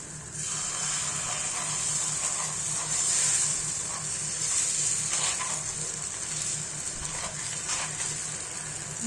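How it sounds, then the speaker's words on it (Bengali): Thin flour batter brushed with ghee and spread by hand across a hot pan, giving off a steady, close hiss and sizzle that holds with no talking. "এবার গোলা ময়দাটা দিলাম, দিয়ে হাত দিয়ে এইভাবে ছড়িয়ে দিচ্ছি।"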